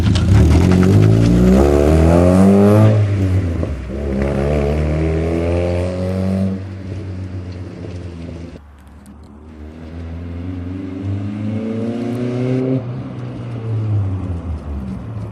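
A turbocharged Mazda MX-5 engine revs loudly and repeatedly, pitch climbing and falling through several rises, heard close with no talking.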